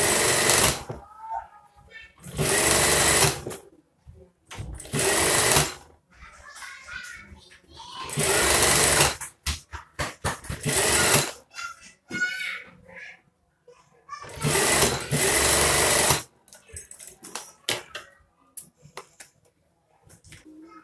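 A sewing machine stitches the collar of a scout uniform, a collar stiffened with fusible interfacing, in several loud whirring bursts of a second or two each, separated by pauses filled with quiet handling noises.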